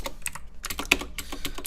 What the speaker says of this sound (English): if I were to type in MUI app bar